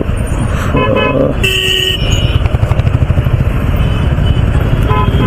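Heavy road traffic on ISB road near Wipro Circle, with cars, bikes and lorries crowding past. Loud, close engine rumble runs underneath while several horns honk in short overlapping bursts, some high and brassy and others deeper.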